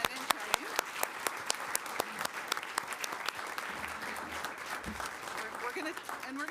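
A room of people at a city council meeting applauds the outgoing and incoming youth commissioners, with steady, moderately quiet clapping and a few sharper individual claps standing out, running the whole length without letup.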